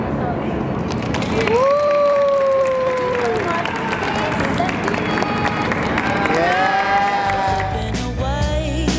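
Audience clapping and cheering at a fashion show event, a continuous dense burst of applause with whoops and shouted voices rising over it, loud and sustained throughout.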